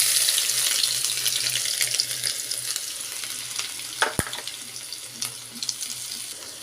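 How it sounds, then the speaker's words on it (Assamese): Crushed ginger and garlic fry in hot oil with five-spice seeds and a dried red chilli, a steady close sizzle with light stirring and scraping and a sharp clatter near the end. "এক মিনিটমান মই আদা নহৰুখিনি ভাজি লৈছোঁ"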